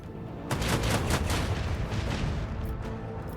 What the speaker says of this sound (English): Port side cannons.